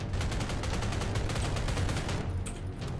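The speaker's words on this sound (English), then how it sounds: "I'm shooting you with a scar, bro!" Sustained SCAR rifle fire in a video game, a fast steady stream of shots rattling evenly for a few seconds before dropping off near the end.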